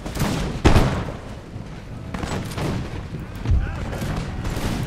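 Musket volleys crackle in a massed-battle game with Imperial Splendour's Russian army, bursts of overlapping gunfire rippling out with booming thumps over a continuous rumble of battle, with a voice talking over it.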